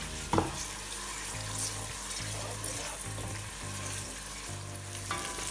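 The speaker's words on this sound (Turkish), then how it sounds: "Güzelce kokusu çıkana kadar salçamızı kavuruyoruz." Tomato paste fries and is stirred in a pot for tarhana soup, a steady close sizzle with periodic scraping strokes of the spoon in a regular rhythm, quiet and without talk.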